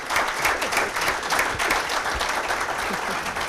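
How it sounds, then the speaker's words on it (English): Sustained audience applause at a policy roundtable panel event, steady dense clapping from a crowd filling the whole stretch at even loudness. "Could you join me in a round of applause for our esteemed panel today?"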